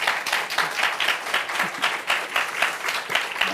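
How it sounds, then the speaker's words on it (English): An audience claps warmly after talks at a lecture event on Dune's ecology and religion, a dense, sustained patter of many hands at moderate volume, rising and falling slightly throughout. "Big warm round of applause for them."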